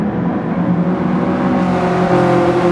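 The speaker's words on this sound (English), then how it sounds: "Tyres squealing from Ben as he goes through in second." Race cars at the Tsukuba circuit in the Gran Turismo Sport video game, a steady loud engine drone with whirring tone and a slight rise in pitch near the end, no talk.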